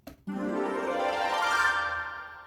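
Orchestral runs played on harp, celesta and woodwinds together, a bright rising cascade of plucked and chiming notes that swells and rings out over a couple of seconds after a brief soft onset.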